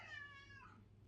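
A cat lets out a short, low groaning meow that slides downward and fades in about a second. It is faint, with a steady background hum.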